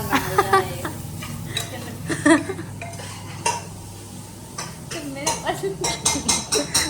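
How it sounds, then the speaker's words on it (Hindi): Onions stirred and frying in a pan while making chole, with clinks and scrapes of a spoon against the pan over a steady sizzle, and a voice talking now and then. "प्याज को जब तक भूनिए जब तक वो लाल ना हो जाए"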